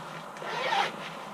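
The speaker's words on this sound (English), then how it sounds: "It has hip zips underneath your armpits" A rucksack's ventilation hip zip under the armpit slides open in one short, close rasping pull with nothing else around it.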